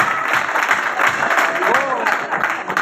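Audience applause at a gathering, a steady wash of clapping throughout under a voice.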